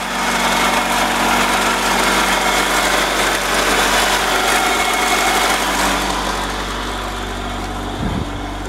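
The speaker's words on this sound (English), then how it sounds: "motor's running real good" A used car's engine idles steadily and sounds healthy, a constant close hum with a light high-pitched whine. No one speaks, and a short low thump comes near the end.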